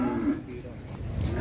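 Cattle moo at a crowded cattle market in Jetis, Ponorogo: a low, drawn-out bovine call sounds close by, while someone talks in the background.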